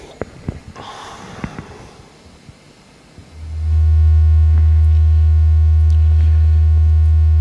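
Plain sine wave from a Hertz Donut Mark III synthesizer, a loud steady low tone switching on partway through and holding unbroken to the end, after a few faint clicks and breaths.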